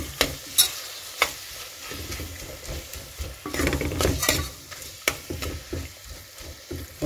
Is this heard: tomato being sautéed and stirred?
yes